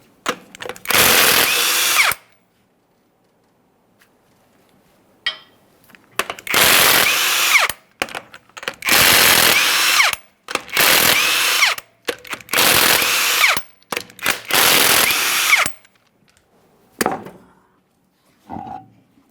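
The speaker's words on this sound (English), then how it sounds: "To remove the wheel, you want to remove each of your 21mm lug nuts" Power tool spinning off 21mm lug nuts from a Ford F-150 wheel, six loud separate bursts of whirring with quiet pauses between them.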